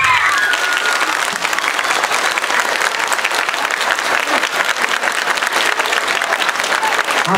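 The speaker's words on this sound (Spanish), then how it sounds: "Pido el aplauso para el primer lugar." Loud, dense audience applause for the first-place winner at a Mojiganga contest in Tepalcingo, a sustained wall of clapping with faint crowd cheering running the whole length.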